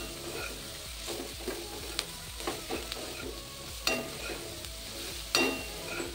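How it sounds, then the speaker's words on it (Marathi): Fresh coriander frying in oil with masala over a medium flame, a steady soft sizzle under repeated scraping stirs and a few sharper utensil clicks against the pan, heard close with no voices. "कोथिंबीर असा भाजून घ्यायचा आहे तेलात"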